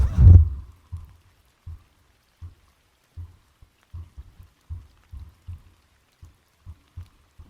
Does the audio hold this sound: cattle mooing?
no